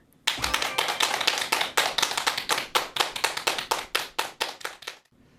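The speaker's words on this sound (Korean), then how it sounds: "큰 박수 부탁드립니다" A lecture audience claps to welcome a family-medicine doctor onstage, a rapid patter of close, crisp handclaps that holds steady and then thins out before stopping abruptly.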